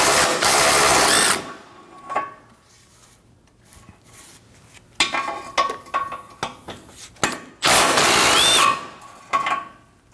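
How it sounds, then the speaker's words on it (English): A 12mm socket on a ratchet or power tool backs bolts out of the crash bar on a 2011-2016 Kia Optima front bumper, with two loud sustained whirring bursts at the start and near the end and scattered clicks and metallic clatter between. "Go ahead and remove this using a 12mm socket."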